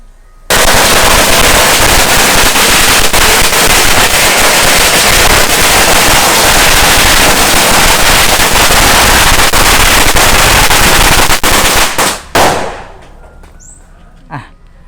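A long string of firecrackers goes off at Wat Song Sawoei, a Thai temple, in a loud, dense, continuous crackle that lasts about twelve seconds. The bangs then thin out into a few scattered pops as the string burns down.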